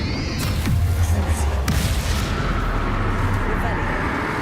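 Bombarda spell from the video game Hogwarts Legacy going off as a loud, dense explosive rumble with repeated booming impacts over a steady roar of battle noise.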